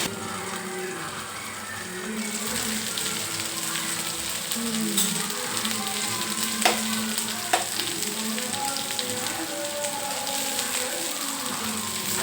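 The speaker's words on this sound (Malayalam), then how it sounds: "അതുകൊണ്ടാണ് ഇപ്പോൾ നമ്മൾ അടച്ചു വെച്ച് ഫ്രൈ ചെയ്യുന്നത്" Chicken fries in a covered pan with a steady, soft sizzling hiss, a few sharp pops and light clicks, continuous and fairly quiet with no talking.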